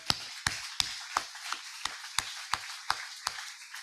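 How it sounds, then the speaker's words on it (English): Close, evenly spaced hand claps ring out about three times a second at a club meeting honoring award recipients, with quiet gaps between each sharp clap. "can we get a big round of applause for all of our recipients?"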